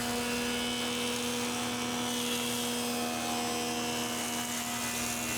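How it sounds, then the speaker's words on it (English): A wood jointer (facer) flattens a rough board sawn from a log, giving a steady, loud mechanical roar with a constant hum under it for the whole stretch and no pauses. "I'm running on the facer trying to figure out which side or which face would be the best one to flatten"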